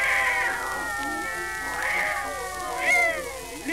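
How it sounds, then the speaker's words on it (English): A Maltese cat caterwauls in three long, wavering, drawn-out yowls that rise and fall, loud and close, with no talking over them. "what is that hideous noise? Why, that's Tiny, my beautiful little Maltese cat"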